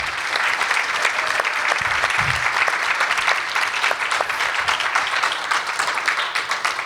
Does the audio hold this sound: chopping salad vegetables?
no